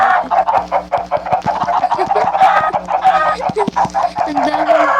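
Chickens in the Minecraft video game cluck repeatedly in quick, choppy bursts, loud and close, with several birds overlapping and no talking.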